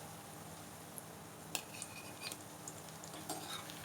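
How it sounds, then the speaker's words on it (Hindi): Cooked bottle gourd kebabs are served from the pan onto a plate in a home kitchen, with faint utensil clinks and light scraping over a low background hiss. "तो अब मैं डिश आउट करती हूँ"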